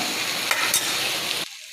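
Potato and coconut fry in a wok of oil with bay leaf, dried chili, panch phoron and turmeric, making a brief loud sizzle with stirring scrapes that cuts off abruptly near the end.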